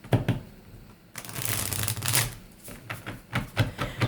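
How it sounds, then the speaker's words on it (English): Tarot cards are shuffled close up in quiet bursts, with soft riffling and flicking rustles separated by brief pauses. "let's go ahead and keep shuffling"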